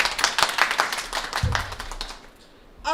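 An audience at a vigilance awareness event in a village panchayat claps in a quick, scattered burst that fades out over two seconds, with a few voices heard near the end.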